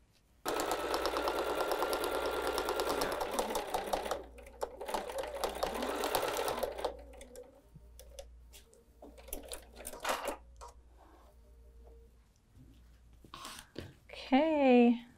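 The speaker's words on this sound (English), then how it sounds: "So I'll see you over at the sewing machine in just a moment." A sewing machine whirs through bursts of rapid stitching, starting and stopping several times, up close, with a brief voice near the end.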